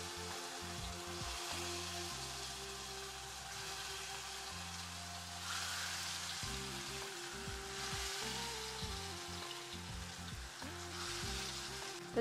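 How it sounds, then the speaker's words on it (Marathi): Wheat-flour vadas fry in hot oil with a steady, close crackling sizzle that runs the whole way through, while soft background music plays underneath and no one speaks. "आता आपण तेलामध्ये फ्राय करून घेऊ द्या."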